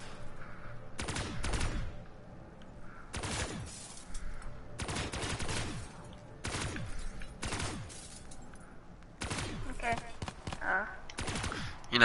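Bursts of gunfire aimed at zombies in Call of Duty's Kino der Toten map crack out in repeated rapid volleys, several clustered fusillades separated by brief pauses, with a voice talking between them.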